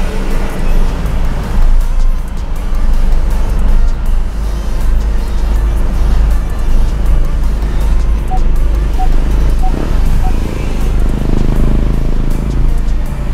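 A 2015 Ford Focus parking itself automatically, with a low steady engine and road hum close by throughout and a few faint soft beeps partway through.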